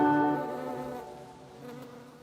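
A steady, faint hum of bees working a flowering garden border, a soft buzzing drone that fades slightly and carries on quietly in the background.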